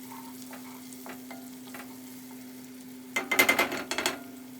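A covered pot of jollof rice with garlic herb seasoning simmers under a steady low hum, then a short burst of close stirring and sizzling clatter rises near the end before settling.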